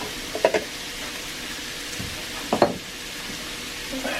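Mushrooms frying in bacon grease in a cast iron pan give a low, even sizzle, broken by two short bursts of spatula scraping and stirring, no voices heard.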